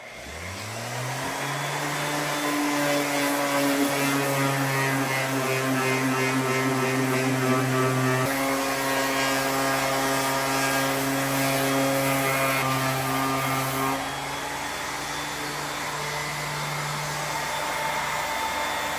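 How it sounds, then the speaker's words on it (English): An electric sander works cured Bondo body filler on a budget cart, a steady loud motor whine with a constant buzzing hum that shifts pitch slightly midway, running alone throughout. "I'm gonna get the old sander and see if we can't get this shaped up"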